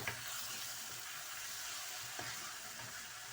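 Potatoes frying in oil with spices, giving a steady, broad, fairly faint sizzle with a couple of light knocks from stirring.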